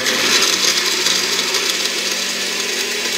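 A blender runs on its low setting, churning a breakfast slushy with fresh butter. It gives a steady, loud, close-up whir that holds unchanged from start to finish, with no voices.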